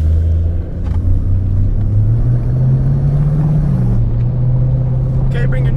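Steady low engine drone from a 1999 Chevy Corvette and a 1998 Chevy Camaro Z28 rolling side by side in drive, a continuous rumble with slight pitch rise, with people talking over it.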